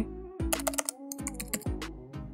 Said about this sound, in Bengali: এখন আমরা এখানে থাম্বনেল টাইপ করে দিচ্ছি।